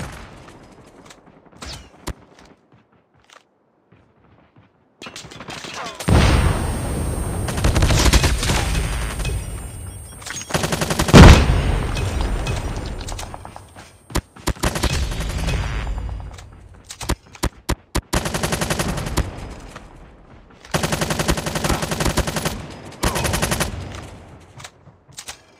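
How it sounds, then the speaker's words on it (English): A sentry gun in a first-person shooter fires long, loud automatic bursts, broken by short gaps and scattered single shots, with an explosion-like boom in the middle and no one speaking. "Friendly sentry gun deployed."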